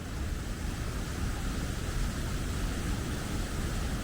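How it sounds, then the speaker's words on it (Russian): A waterfall on the Meghri river in Armenia's Zangezur region roars as a steady, dense rush of falling water, close and unbroken for the whole stretch. "И, конечно, водопад особая стихия."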